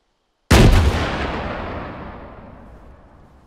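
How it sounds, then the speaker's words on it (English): A rocket launch and blast in a military video game: one loud, sudden boom that starts after a short silence and then rumbles and fades slowly over about three seconds, with no talk. "Rocket."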